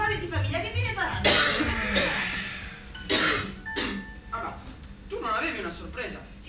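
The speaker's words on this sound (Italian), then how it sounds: "che cos'è questa tosse però, eh?" A man coughs repeatedly in a scene from an Italian drama, with several harsh, close bursts spread across the moment, mixed with throat clearing and some voice sounds between the coughs.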